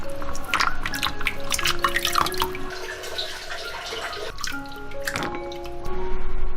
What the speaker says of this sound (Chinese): 瑶柱我们先来清洗一下